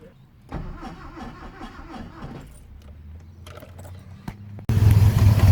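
A temperamental car with an old fuel tank in the engine bay cranks with a churning rattle, then catches and roars loudly and steadily at close range as the clip ends.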